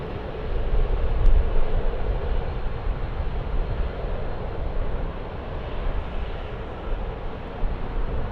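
A Bombardier Global Express business jet roars steadily at Sydney Airport, a broad continuous engine rush heard from a distance and holding at a fairly even level throughout.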